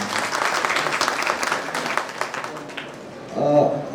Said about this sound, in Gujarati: ત્યારબાદ એક વખત તાળીઓ.